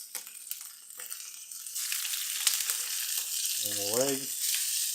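Wild duck pieces sizzling in rendered duck fat in a pan, a soft steady frying hiss that swells after a brief quiet start, with someone talking over it.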